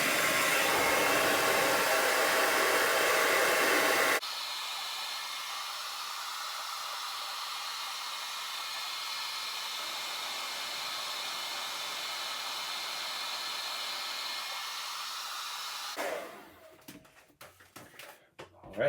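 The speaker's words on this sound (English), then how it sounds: "I have my trusty blow dryer, which has some tape on it." A hair dryer with tape on it roars loudly for about four seconds, then a steadier, quieter blowing hum continues before cutting off into scattered handling noises.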